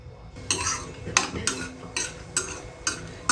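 Cashews and almonds being roasted in a pan, with about seven rhythmic metal spatula scrapes and clinks against the pan over a faint sizzle, no voices.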